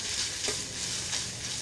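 Vegetables for a chicken kachori filling fry in a hot pan, giving a steady, close sizzle that hisses evenly throughout with no voices over it.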